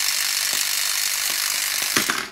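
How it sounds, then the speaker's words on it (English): Several sharp knocks from a plastic rammer hammer striking blocks out of a stack in the Knockout board game, a few scattered taps then a firmer double hit near the end, over steady background hiss. "the color they get is the color they have to remove with this rammer hammer"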